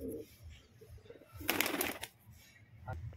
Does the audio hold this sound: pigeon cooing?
yes